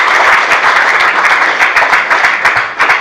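Loud, dense audience applause fills a hall at a talk on the Anti-Corruption Bureau, a steady close crowd of clapping hands throughout.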